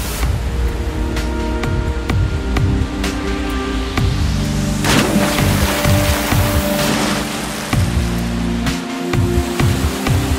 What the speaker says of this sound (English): The gushing rapids make for one of the best rafting experiences down south.